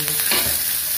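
Shallots, garlic and red chili sautéing in a pan for egg balado, a loud, dense sizzle with scraping stirs throughout, close by and without talk.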